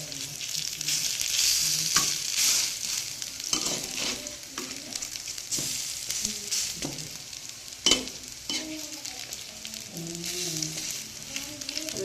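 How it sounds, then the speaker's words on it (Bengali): Bottle gourd leaf fritters sizzle steadily in hot oil as they are turned to crisp, with a continuous close frying hiss broken by a few sharp spatters and utensil clicks. "এরকম করে বড়াটা ভেজে নেব ভিতরটাও সিদ্ধ হবে আর মুচমুচেও হবে"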